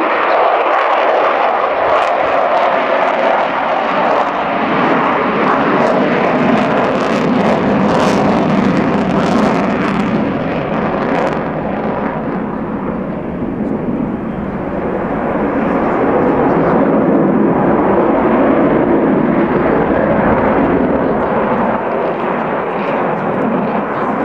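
An Avro Vulcan B2 bomber flying at the RIAT 2009 airshow, a loud continuous jet roar that holds steady throughout with a rumbling, slightly shifting tone.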